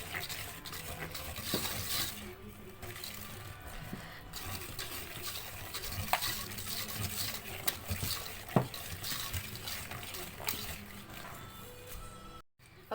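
Butter, sugar and vanilla essence being mixed in a bowl for eggless custard biscuit dough: faint, steady scraping and stirring with scattered small clicks, no voices.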